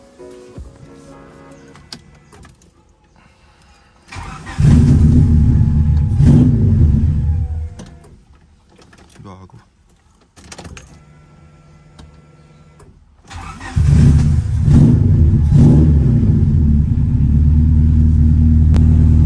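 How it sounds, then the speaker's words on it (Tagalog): A car engine is started and runs with a loud, close low rumble and a few revs, cuts out for several seconds, then fires up again and idles heavily to the end; a brief spoken word is heard. "Check natin yung makina niya."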